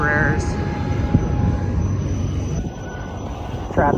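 Embraer jets at a JSX airport terminal, a steady broad engine whine and hum at moderate distance with a few tonal whistles, a person talking over it at the start and end.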